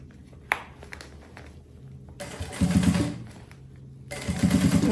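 A sewing machine stitching a double-sided puffer bag closed with a size 21 needle, running in two short bursts of rapid whirring separated by a pause, close by.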